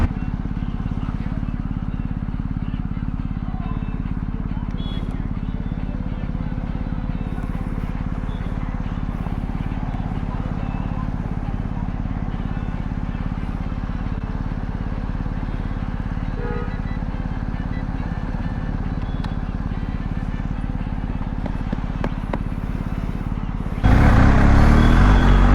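A BMW 1250 GSA adventure motorcycle ridden off-road, its engine droning steadily with constant wind rush, close and loud, swelling into a heavier rumble near the end.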